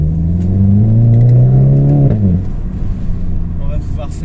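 Volkswagen Golf GTI engine pulling hard, pitch climbing steadily through a gear before a shift and a lower settling drone, heard from inside or near the car, fairly loud.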